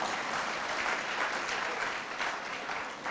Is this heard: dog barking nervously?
no